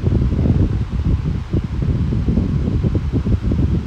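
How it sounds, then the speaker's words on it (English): Lasko 20-inch Max Performance high velocity fan running indoors, a loud, close, steady rushing whoosh of air with constant fluttering buffeting and no voices. "I am so happy to finally have a 20-inch startup sound high velocity fan."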